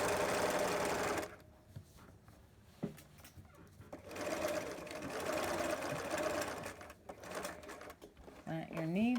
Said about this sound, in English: Plant your needle, pivot, turn, double sew over that elastic.